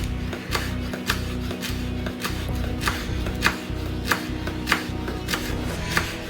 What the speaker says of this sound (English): let's go ahead and start mincing